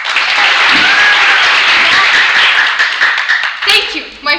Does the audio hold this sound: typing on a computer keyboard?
no